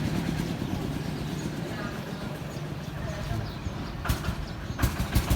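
A tuned Kubota L4708 farm tractor with a modified engine revving to about 4500 rpm gives a steady, low, rumbling drone at moderate distance, with voices talking over it and a few louder bursts near the end.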